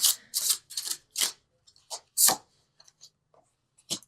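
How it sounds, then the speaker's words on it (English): Tarot and angel cards being shuffled by hand in a quiet room, several crisp papery riffles in quick bursts separated by short pauses, close and fairly soft. "keep shuffling"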